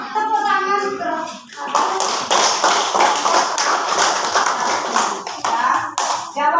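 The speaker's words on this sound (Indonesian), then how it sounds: "Tepuk tangan terus." Classroom group of teachers or students clapping hands together, a steady rhythmic run of claps following a short stretch of talk, near and fairly loud with brief pauses between bursts.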